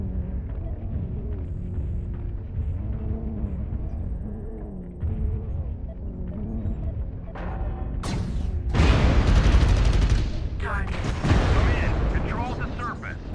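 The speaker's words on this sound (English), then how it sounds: "I'm trying to hear you over machine gun fire" Machine gun fire in the Mechwarrior Online video game, a sustained loud rattle of rapid shots with heavy bursts and booming impacts building toward the end, while voices talk over it.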